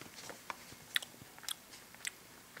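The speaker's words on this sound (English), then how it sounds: "eating a nice small single serving of mint chocolate crunch ice cream" Small bites and chews of mint chocolate crunch ice cream, a single serving, with a few sharp crunchy snaps spaced about half a second apart over quiet close-up mouth noise.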